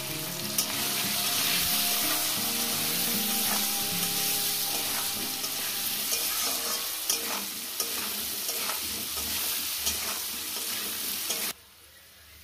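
Potatoes frying in a pan with salt and turmeric, a steady close sizzle with clinks and scrapes of stirring, ending abruptly near the finish.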